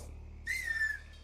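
A single short, bright whistle rises and holds for about half a second in the Mafia 3 video game, heard faintly over a low background hum, alone without talk.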